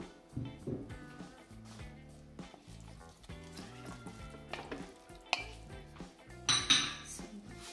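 Capsicum and corn kernels stirred in a frying pan, with a utensil scraping and clinking against the metal and a soft sizzle underneath, plus one sharper clatter near the end.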